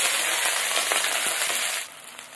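Onions hit hot oil in a pan with a loud, bright, crackling sizzle that holds steady close up, then drops off sharply near the end.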